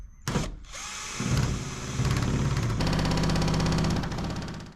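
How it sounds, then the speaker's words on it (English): A nibbler cuts sheet metal for a van side window: a short burst and a pause, then a loud, rapid mechanical chatter that grows denser and steadier as the cut continues, close up and with no speech. "So this is the problem with nibblers, they don't go straight."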